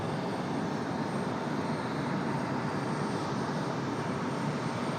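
A Delta A320 jet airliner bound for Detroit departs Raleigh-Durham International, a steady broadband engine roar holding level throughout, fairly distant and with no voices over it.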